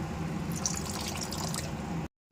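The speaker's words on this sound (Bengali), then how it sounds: "একটু জল দেবো" Water poured into a pan of cooking fish-curry masala makes a steady close splashing, liquid flow for about two seconds before stopping abruptly.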